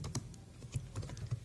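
Quick bursts of computer keyboard typing, close and fairly faint, irregular keystrokes over about a second and a half with no talking.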